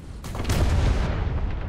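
A Cromwell V tank cannon firing in the video game War Thunder, a single heavy boom with a deep rumbling tail that decays slowly over a second or so.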